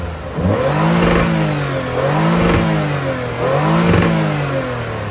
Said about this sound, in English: it's crazy how refined this engine is